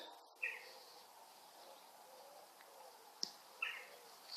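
Birds calling around the ancient Benedictine church at Blyth near Retford, England: a few short, high chirps scattered over a faint, quiet outdoor hush, with one sharp tap in between.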